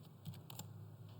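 Keys tapped on a computer keyboard while writing JavaScript code, a few quiet, close clicks in a short irregular run over faint steady background hum.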